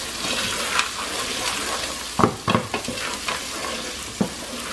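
Minced garlic and frozen green peas cooking in a pot, with a steady sizzle and a few sharp scrapes and clinks of a spoon stirring through the middle and again near the end.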